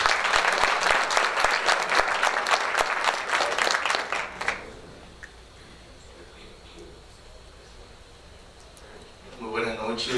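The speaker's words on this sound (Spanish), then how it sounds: "Lo recibimos con un fuerte aplauso." An audience at the opening gala of a Dominican international book fair gives a loud, dense round of applause that stops after about four seconds, leaving quiet room tone before a voice begins to speak.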